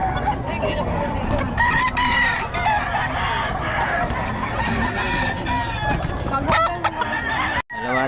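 Stag gamecock roosters crow and cluck repeatedly, close and loud, with overlapping calls from several birds and a farmyard hubbub of background voices.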